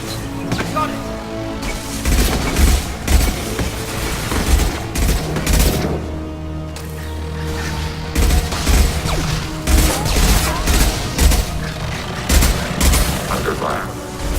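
A firefight in Mass Effect 2 brings loud, repeated bursts of gunfire and booming impacts in rapid clusters, with short pauses between volleys and brief voices underneath.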